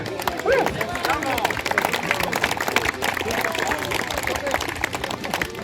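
Crowd claps steadily throughout an outdoor award ceremony at a weekend event on a military training ground, a dense patter of hands mixed with chatter and voices in the background.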